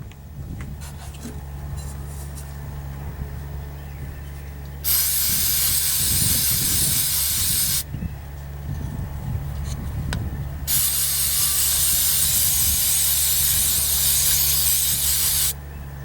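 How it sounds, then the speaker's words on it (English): Two long, loud hissing bursts from a spray can during maintenance on an OBS Chevy truck, the first about three seconds and the second about five, over a low background hum. "So I'm just gonna hold this off to the side and spray it."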